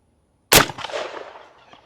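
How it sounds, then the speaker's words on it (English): A single sharp, loud shot from a SCAR rifle firing a .308 round at a hardened steel lock, followed by a fading metallic ring and echo over about a second. "Here we go, 308 against our hardened steel lock here."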